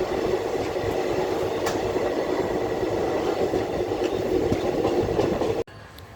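A passenger train on the Vadodara to Ujjain route nears Ujjain station, its loud, steady rumble and wheel clatter continuing close by before cutting off abruptly near the end.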